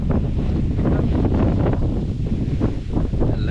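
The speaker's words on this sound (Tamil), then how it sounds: "நல்லா காற்றடிக்குது." Strong wind in open rice fields roaring across the microphone, a steady, loud, low buffeting rumble with gusty surges throughout.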